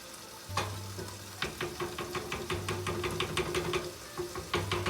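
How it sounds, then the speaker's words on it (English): Spoon stirring a pan of cooking food while making loaded plantains, with repeated scraping strokes in a steady rhythm over a soft sizzle, close and moderately loud with no talking. "So you want to just stir it until it's nice and smooth."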